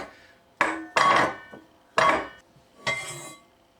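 A vintage 1983 Legion Utensils copper clad skillet is handled, giving four distinct metallic clanks and knocks close by, each ringing briefly before fading, with short quiet gaps between.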